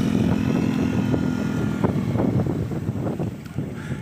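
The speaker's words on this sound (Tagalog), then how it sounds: "Iingay naman ng motor na yun" A loud motorcycle engine drones continuously close by, a rough low rumble with wind buffeting the microphone.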